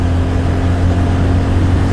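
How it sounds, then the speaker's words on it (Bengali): A motorcycle cruising at high speed with a closed helmet visor: a steady, loud roar of wind buffeting and low engine drone, unbroken throughout. "আর এইরকম একটা অডিও কোয়ালিটি তোমরা ভাইজার বন্ধ অবস্থায় হাই স্পিডে যখন চালাবে বাইক তখন এক্সপেক্ট করতে পারো।"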